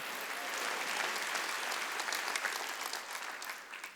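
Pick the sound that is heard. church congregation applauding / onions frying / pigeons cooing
church congregation applauding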